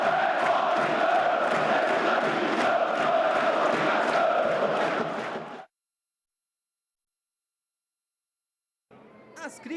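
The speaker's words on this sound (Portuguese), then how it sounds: "A torcida faz festa no Pacaembu" Palmeiras supporters at Pacaembu stadium after a 0-0 draw, a dense roaring crowd with chants and cheers filling the first half, then a sudden cut to silence before faint noise returns near the end.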